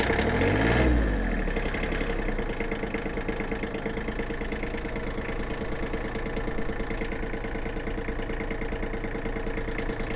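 A small diesel engine of a Mitsubishi MTX13/MT135 mini tractor, started after warming its glow plugs, turns over and catches, then settles into a steady, close chugging idle that runs continuously.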